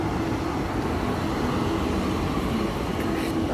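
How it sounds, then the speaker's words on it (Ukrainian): Trams roll along a Zurich street, producing a steady mid-distance rumble of wheels and motors blended with general city traffic noise. "Трамваї."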